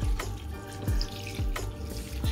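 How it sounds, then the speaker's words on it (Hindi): Water is poured into a cooking pot of achar gosht, with splashing and trickling bursts recurring every half second or so, close and fairly loud, alone without talk. "इसके अंदर 1 कप पानी का ऐड कर लेते हैं"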